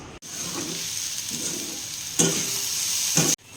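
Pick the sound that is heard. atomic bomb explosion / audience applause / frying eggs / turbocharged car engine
frying eggs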